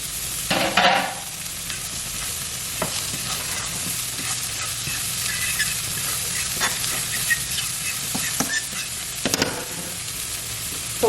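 Peppers and onions for Cajun shrimp and grits sizzle steadily in a hot pan, a close continuous frying hiss broken by occasional sharp spatula scrapes and clicks.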